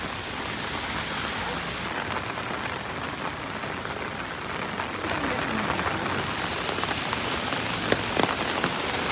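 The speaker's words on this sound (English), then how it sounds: "It's still raining." Steady rain pattering on surfaces outdoors on a wet Christmas market day, a dense continuous hiss of drops that grows slightly heavier toward the end.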